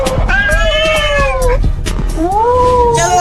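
Cartoon cats yowl and caterwaul loudly up close, two long drawn-out wailing cries with a brief gap between them, over a noisy background.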